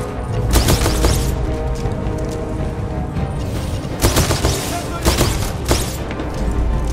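Gunfire in the Titanfall 2 shooter game, dense bursts of rapid shots and booming blasts across the whole stretch, loud and close, with a voice talking over parts of it.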